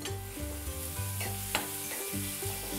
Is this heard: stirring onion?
yes